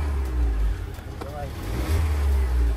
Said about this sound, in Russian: Ты слышишь, как работает? Как будто бы V-образная шестерка затарахтела.